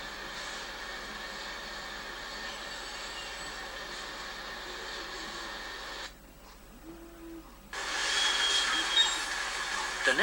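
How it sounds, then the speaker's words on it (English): Thomas the Tank Engine, a steam train, rolls along with a faint, steady rail rumble and a brief metallic squeal, quiet throughout with a short hush partway through. "As he chuffed away, he spotted an old engine part that Kevin the Crane had dropped."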